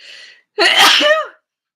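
A single loud, close sneeze, preceded by a short sharp inhale.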